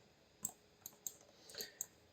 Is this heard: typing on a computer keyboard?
yes